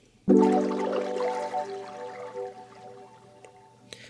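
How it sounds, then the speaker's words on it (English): A single granular synth tone from Pigments strikes, then decays into a shimmering, bubbly texture resembling flowing water that fades out over several seconds. "you get that water flowing sort of sound"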